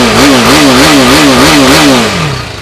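A Kawasaki single-cylinder motorcycle engine revs hard up close, a loud, buzzy tone that wavers through several quick blips before dropping off at the end.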